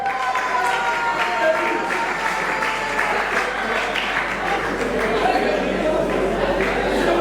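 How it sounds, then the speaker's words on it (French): An audience applauds continuously at a comedy show, the clapping dense, steady and fairly loud throughout, with a few voices mixed in. "Sous vos applaudissements."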